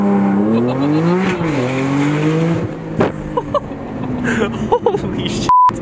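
A 900 HP Porsche Turbo launching hard on a backroad, loud rising engine roar with gear changes and revving, then quieter cabin sounds and brief clicks.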